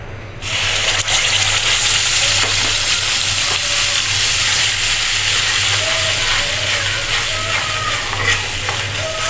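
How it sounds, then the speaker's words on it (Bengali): Onion paste dropped into hot oil previously used for frying fish, bursting into a loud, steady hiss and sizzle that starts abruptly and holds throughout with faint crackles, no voices. "তেলটা গরম হয়ে গিয়েছে, এবার দিয়ে দিব পেঁয়াজ বাটা।"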